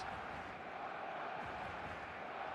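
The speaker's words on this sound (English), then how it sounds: "The stadium is full of noise and energy." A full stadium crowd in a football video game gives off a steady, distant roar of noise and energy that holds even and continuous throughout, with no clear individual shouts.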